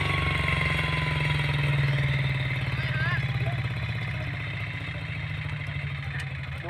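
A low, steady tractor engine drones and idles throughout, with rhythmic chugging and some clatter, while voices talk in the background, during cassava digging.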